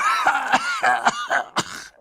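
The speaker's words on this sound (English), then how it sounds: "I coughed" A person with a chest cold coughs repeatedly up close, several harsh, raspy bursts in quick succession with short gasping breaths between.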